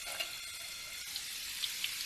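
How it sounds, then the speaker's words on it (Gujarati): Green peas frying in hot oil under a covering plate on a low gas flame for Morbi-style spicy chavanu, a steady broadband sizzle with a few faint pops, continuous and close. "જો તળવા સમયે વટાણા ફૂટે ને તો આ રીતે કોઈ પણ ડીશ ઉપર ઢાંકી દેવાની"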